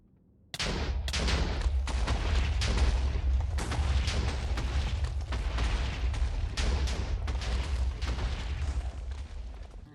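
Rapid chains of TNT blasts in Minecraft's Nether, set off to dig out netherite; a continuous barrage of loud, overlapping booms and crackling bursts runs for nearly the whole stretch, with no voices over it.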